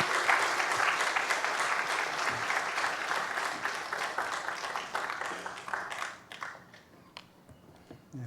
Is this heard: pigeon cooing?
no